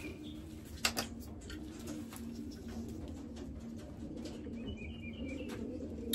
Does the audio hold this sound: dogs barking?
no